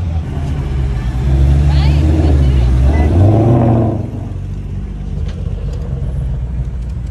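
Aston Martin DB5 cruising past on a street lined with exotic cars, its engine rising into a loud rumbling swell and fading again, with people talking over it.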